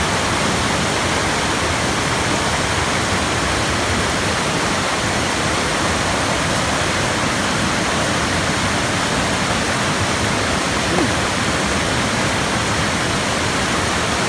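A mountain stream flowing down from the top of the Blue Ridge Mountains, a steady, full rushing of water that holds an even level throughout with no voices.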